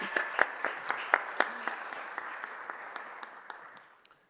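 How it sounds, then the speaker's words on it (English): A small crowd at a city council meeting claps for a councilmember, brisk applause that starts clear and close and then thins out and fades to a few last claps. "Let's give Councilmember. Paul another round of applause."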